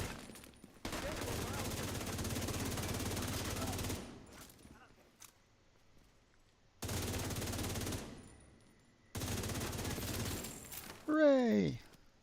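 Automatic gunfire in The Division 2, three long sustained bursts of rapid shots separated by pauses, loud and close, ending with a rising electronic chirp.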